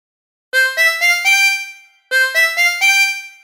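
Tremolo harmonica plays the full Oh When the Saints melody in two matching phrases of four notes each. The notes step upward, each one sustained with a bright, buzzy, shimmering tone. A brief pause separates the phrases, with no voices.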